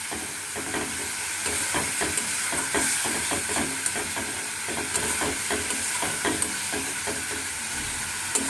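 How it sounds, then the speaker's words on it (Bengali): Fish-roe curry ingredients are stirred and fried in a pan, with a continuous hissing sizzle and repeated scraping strokes of a spatula in a steady rhythm, close and moderately loud, with no voices. "ভালো করে নাড়াচাড়াতে হবে।"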